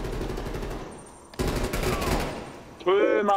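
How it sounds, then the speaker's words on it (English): Automatic gunfire in the online shooter Call of Duty Black Ops Cold War, a hardpoint match on the Checkmate map, sounding as loud close bursts of rapid shots that start and stop, with voice chat in the background. "Who's shooting up?"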